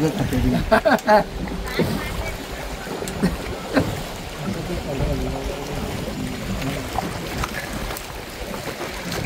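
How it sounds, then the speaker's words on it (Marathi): Small boat moving on the river at the Krishna–Panchganga confluence in Narsobawadi, Kolhapur, with steady water wash and splashing against the hull as people talk over it. "या नदीमध्ये या नावेमध्ये बसून फिरायला अति सुंदर वाटतंय"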